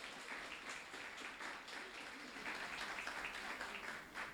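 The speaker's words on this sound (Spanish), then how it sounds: "Queremos darles un aplauso," Church congregation applauding in welcome, faint scattered clapping heard from a distance, soft and continuous for a few seconds.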